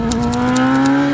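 A Kawasaki ZX-10RR track motorcycle engine holds a loud, steady high-revving drone up close, with quick periodic crackles and blips from the quickshifter pulsing through it.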